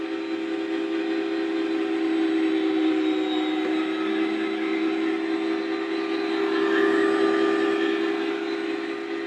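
A Cuisinart FS-75 electric food slicer runs steadily while shaving thin slices of brisket, giving a continuous motor whine with a steady tonal hum, close and unbroken for the whole stretch.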